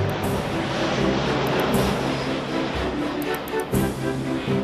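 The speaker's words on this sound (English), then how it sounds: "A plane taking off makes a terrible noise." A loud, continuous engine roar with a low droning hum fills the whole stretch, like an aircraft powering up and passing close overhead.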